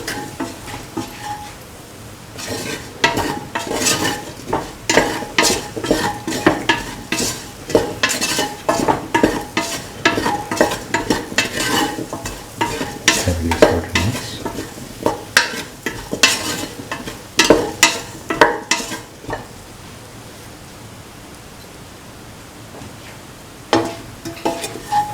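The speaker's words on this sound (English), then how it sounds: "Mix the garam masala or mixture spices with the potatoes and the ginger and the shallots." Potatoes with garam masala, ginger and shallots being stirred in a sizzling pan, with a quick run of sharp scraping and clinking utensil strokes over steady frying, then a quieter sizzle near the end.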